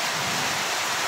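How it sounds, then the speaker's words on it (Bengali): Heavy afternoon rain pours down in a dense, continuous roaring wash of noise, close and loud, with no voices. "কি সুন্দর বৃষ্টি হচ্ছে"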